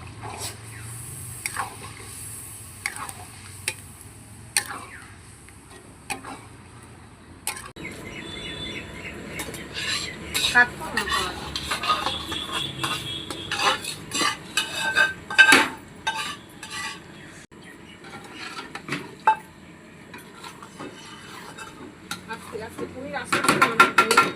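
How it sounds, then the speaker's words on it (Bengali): Paneer masala being stirred and sautéed in a pan at home gives off scattered metallic scrapes and clinks of a utensil against the pan, growing busier and louder over time, with faint bird chirps in the background. "আর এই যে পনিরের মশলা কষাচ্ছে দিদি।"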